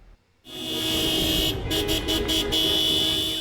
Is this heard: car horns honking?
yes